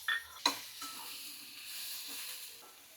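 Boiled, salted chickpeas stirred with masala and chopped coriander in a pan, a couple of sharp spoon knocks at the start, then a soft, quiet sizzle with gentle scraping.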